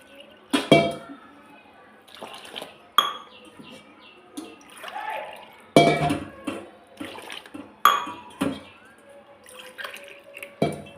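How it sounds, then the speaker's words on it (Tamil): Water poured from a tumbler into rava dosa batter in a home kitchen, in several separate splashing pours with clinks of metal vessels between them, close and moderately loud with no talk. "அந்த அளவு வச்சு 4 டம்ளர் தண்ணி ஊற்றிக்கிடலாம்."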